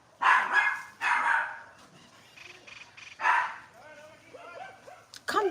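A dog barks several times indoors, loud close woofs in separate bursts with gaps between them, the last one sharp near the end, over faint background sound.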